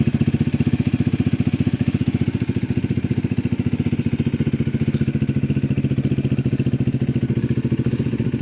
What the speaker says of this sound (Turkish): Gayet de güzel bir motor sesi var.